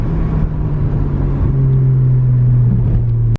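A 2014 Porsche 981 Cayman S engine holds a loud, steady drone from inside the cabin, with the pitch stepping slightly lower partway through and a brief cut near the end.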